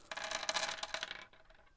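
Metal coins drop onto a table, a quick cluster of bright clinks and jingles that settle and fade within a second or so, close and alone.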